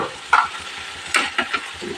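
Okra curry being stirred in a pan, with a few distinct close clinks and scrapes of a spoon against the metal over a soft, low sizzle, with no talking.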